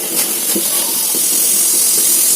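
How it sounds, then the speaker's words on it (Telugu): Water boils in a pot before rice rava is added: a steady, loud hiss of steam and rolling bubbles, close and unbroken for the whole moment, with no voices. "చూడండి ఫ్రెండ్స్, వాటర్ అయితే మరుగుతున్నాయి కదా"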